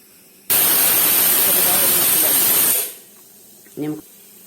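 A kitchen pressure cooker holding wheat upma lets off one loud, steady hissing whistle of steam lasting about two seconds, then cuts off sharply, followed by a brief faint voice.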